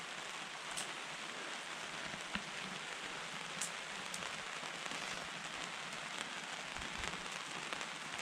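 Rain patters steadily on a tarp canopy overhead, a dense, even hiss dotted with occasional sharper drops, heard up close and alone without any voices.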